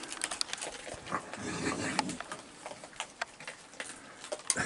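Raccoons crowded together on a deck by water buckets give a low, rough growl in the middle of the stretch, surrounded by scattered clicks, taps and scuffling sounds.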